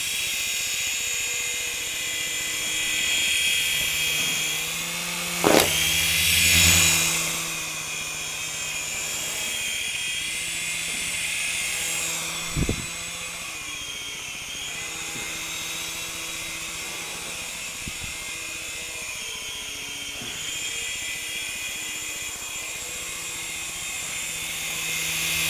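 A small toy copter hovers nearby with a constant buzzing whine of spinning rotors, holding steady with slight pitch wobbles and a couple of short bumps over roughly half a minute.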